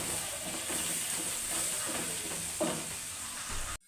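Spices with salt, turmeric and green chilli fry steadily in a pan, a continuous close sizzle and hiss with a few soft scraping stirs, no talking.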